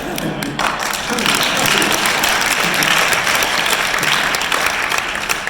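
A keynote audience at the 2020 Fastlane Summit claps and reacts loudly in a dense, continuous burst, with crowd noise and voices mixed into the steady clatter.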